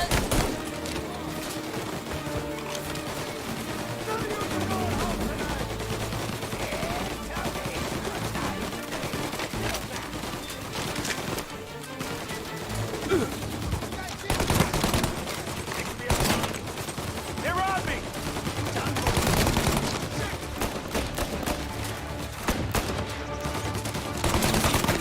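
Video game gunfire, a remade classic shooter: dense volleys of shots and bursts of automatic fire rattle continuously throughout, with loud clusters near the middle and end, mixed with game music and effects.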